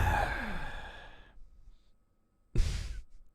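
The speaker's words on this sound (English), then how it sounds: "Just gonna do some heavy breathing." A single person breathes heavily during a casual camo-grind game stream, with a long drawn-out exhale that fades away, a short pause, then a sharp, loud breath burst near the end, close to the mic with no talking.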